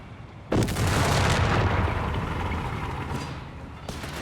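Artillery shells burst in a Company of Heroes 3 match: a sudden heavy boom followed by a long rolling rumble that slowly fades, with a fainter thump near the end.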